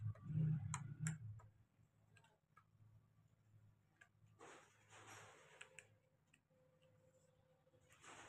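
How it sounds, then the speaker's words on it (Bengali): A wrench tightening the nuts on an e-rickshaw motor cover, with faint metallic clicks and ratcheting ticks spread irregularly across a quiet workshop background, plus a low hum at the start. "এবার এলেঙ্কি দিয়ে টাইট করছি"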